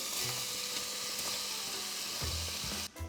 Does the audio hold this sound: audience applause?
no